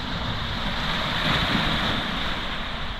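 Sea waves wash steadily onto the shore at evening after rod fishing, a loud continuous roar of surf with wind buffeting the microphone and no voices.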